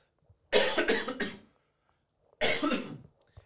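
Two separate bursts of coughing, the first a rapid run of three or four harsh coughs, then a pause and a shorter second fit, close and loud.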